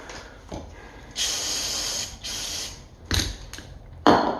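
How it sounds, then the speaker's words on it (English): Disinfectant is sprayed onto mail in several bursts: short hissing sprays separated by pauses, with one longer spray near the start and quick clicks of the trigger mechanism between them, close and fairly loud. "Gotta spray everything."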